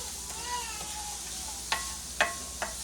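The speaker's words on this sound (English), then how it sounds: "Continue stirring this over here." Lasagna filling sautés in a pan with a soft continuous sizzle while a utensil stirs it, leaving a few distinct scraping clicks near the end.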